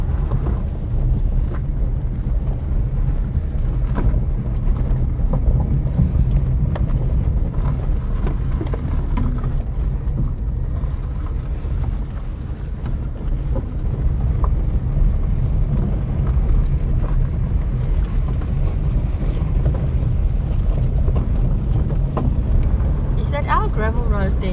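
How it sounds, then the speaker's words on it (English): Strong wind buffets the microphone at Prince Alfred's Pass on a gravel mountain road, a steady loud low roar with no break throughout, and a faint higher whine surfacing near the end. "Wind is intense."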